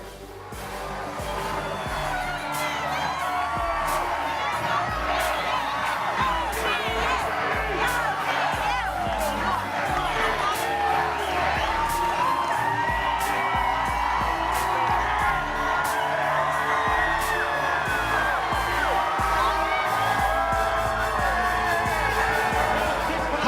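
Big arena crowd at a Creighton Bluejays vs DePaul Blue Demons college basketball game roars steadily, with cheers, whoops and shouts rising over a dense wall of applause for the whole stretch.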